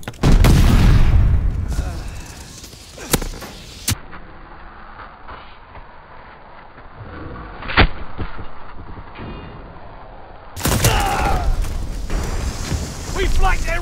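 A grenade explodes in a shooter video game, with heavy booming blasts: a burst at the start, sharp single hits in between, then another long rumbling roar near the end over quieter battle noise.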